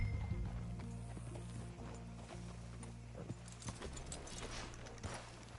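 Horse hooves clip-clop in a steady trotting rhythm in Red Dead Redemption 2, moderately close, with faint game ambience beneath and a low rumble of background sound throughout.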